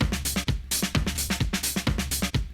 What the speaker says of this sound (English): The drum loop on its own sounds like this.